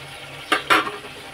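Onion and tomato masala sizzles gently in a pan, and two quick spoon scrapes stir it. The sound is close and short, and no one speaks.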